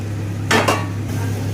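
Boiled, peeled and fried small potatoes go into a pan of cooked-down capsicum masala for aloo dum. Two quick clattering bursts rise over a steady low hum, close by, with no voices.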